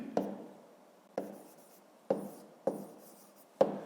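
Numbers written by hand with a pen on paper during a fifth-grade math exercise, five short sharp taps and scratches spaced irregularly, close and quiet.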